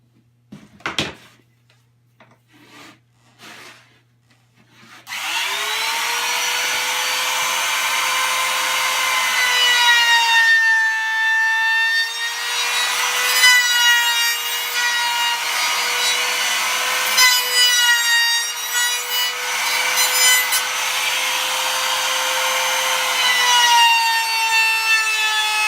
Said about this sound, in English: Using a 1/8 inch round over bit